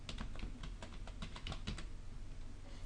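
Quick keystrokes rattle on a computer keyboard, a short burst of close, crisp clicks in an uneven rhythm for under three seconds.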